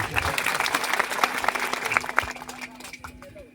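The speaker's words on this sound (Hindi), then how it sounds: "आदरणीय बाबा साहब के लिए एक बार जोरदार ताली चाहता हूं" A crowd at a public event for a dam project applauds vigorously, dense clapping that holds strong and then thins out toward the end, with a voice faintly audible underneath.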